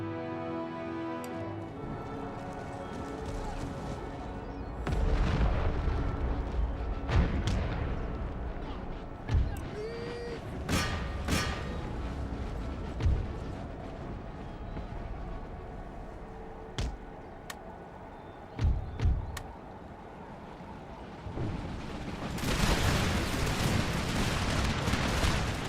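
Twelve-pounder cannons fire during a large real-time battle in Empire: Total War, with booming shots and gunfire scattered irregularly through a dense, continuous battle din that swells again near the end.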